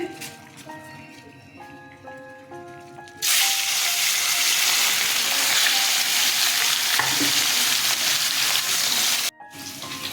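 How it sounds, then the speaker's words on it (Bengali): Katla fish fillets dropped into hot oil burst into a loud, steady frying sizzle after a quieter start with faint kitchen clatter, the hiss filling the clip before cutting off briefly near the end. "তেল গরম হয়ে গেছে, মাছ ছেড়ে দিচ্ছি"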